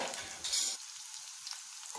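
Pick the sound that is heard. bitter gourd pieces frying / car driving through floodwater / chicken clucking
bitter gourd pieces frying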